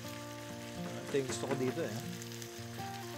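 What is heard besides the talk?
pork being stirred and frying in its own oil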